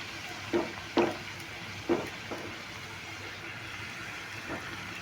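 Luchi frying in hot oil as oil is spooned over the top, a steady low sizzle broken by a few soft splashing bursts from the ladle, close and alone with no talk.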